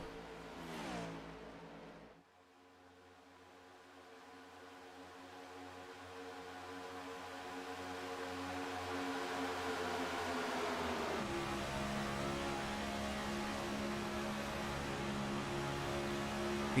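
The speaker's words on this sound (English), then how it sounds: "You can hear the throttle of Kyle Lefevre as he's trying not to run over the car in front of him" A race car engine during the Gadgit Solutions 250 holds steady throttle close by, a loud buzzing drone that drops sharply, then climbs gradually in pitch and volume, alone without talk.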